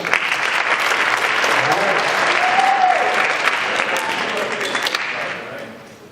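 High school concert audience applauding loudly and steadily, dense clapping filling the room for about five seconds before tapering off, with some voices mixed in.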